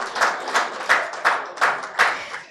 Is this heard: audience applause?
yes